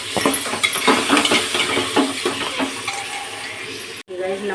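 Chopped bottle gourd stirred into fried masala in a pan, with a run of rhythmic scraping and clinking stirs over a steady sizzle, then a brief pause and a softer sizzle, a voice speaking in the background.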